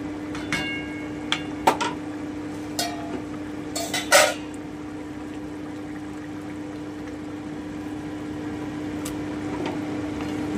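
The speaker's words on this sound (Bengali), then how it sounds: "ভালো করে একটু নেড়ে দিচ্ছি।" A spoon stirs koi fish curry with cauliflower and potato in a cooking pot over low heat, giving a few light metallic clinks and scrapes near the start over a steady simmering hiss, followed by quiet bubbling.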